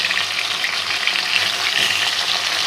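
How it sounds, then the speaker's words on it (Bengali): Large pieces of rohu fish fry in hot oil in a pan, giving a steady, loud, dense sizzle that goes on without a break, close up, with no voices. "বড় বড় মাছের টুকরা তো হালকা হালকা ভালো ভাজাবো তেল দিয়ে"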